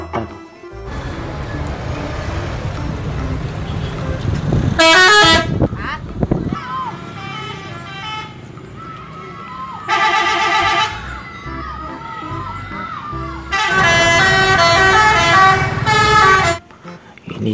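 A Budiman bus goes by on the road, its engine droning while several loud horn blasts ring out, one in the middle and a longer pair near the end, with short gaps of quieter traffic and a voice between them.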